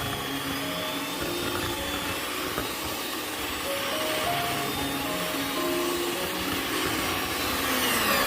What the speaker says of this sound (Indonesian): Kita mixer selama 10 menit aja ya.